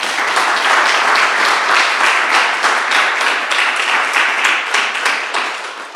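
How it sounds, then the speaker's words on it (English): An audience at a museum's Tuesday art talk gives a steady round of applause for the guest curator, many hands clapping densely and close for the full stretch, with no talking over it. "Please give her a round of applause."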